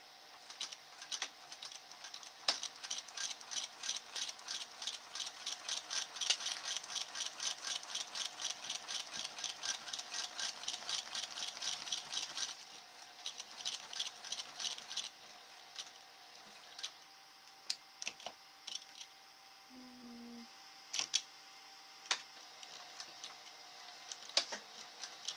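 A sewing machine stitches a quarter-inch bag seam with a steady, rapid mechanical ticking. It runs closely for several seconds, then gives way to shorter intermittent bursts as the seam is backstitched, with only brief faint talk.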